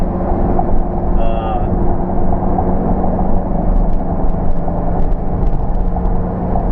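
A 2001 Pontiac Trans Am engine rumbles and pulls in gear under acceleration, a loud, steady in-cabin drone with road noise, with a voice talking over it.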